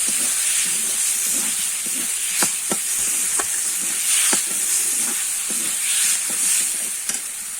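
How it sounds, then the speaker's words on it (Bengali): Fried potatoes are stir-fried with spices in a pan for a rupchanda fish curry, with a loud continuous sizzle and hiss punctuated by rhythmic spatula scrapes and knocks against the pan. "আমি এবার ভেজে রাখা আলুটা দিয়ে দেবো দিয়ে আবার একটুখানি কষিয়ে নেব"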